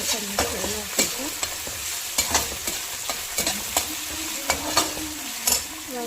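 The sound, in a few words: ginger garlic paste frying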